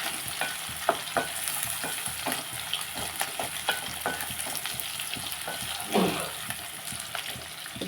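Garlic sizzles and fries in a pan with dried red chilies, a steady crackling hiss broken by repeated scraping stirs from a utensil, close up and without speech.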